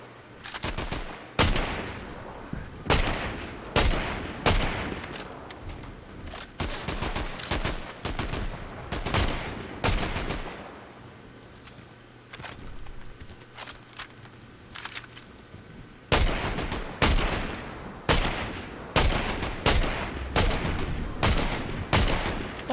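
Repeated DMR rifle shots in Fortnite ring out loud and close, fired as rapid single shots in bursts, with a quieter lull in the middle before the shooting picks up again.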